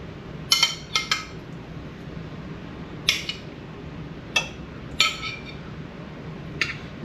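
Pork chops are laid into the bottom of a crock pot, with a handful of sharp, bright clinks and knocks of ceramic and utensils spaced a second or two apart over a quiet kitchen background.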